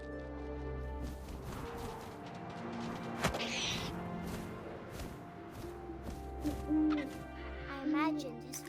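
An owl hooting inside the video game What Remains of Edith Finch, a soft hoot heard over a low wind-like ambient bed, with a sharp thump midway and faint voice fragments near the end.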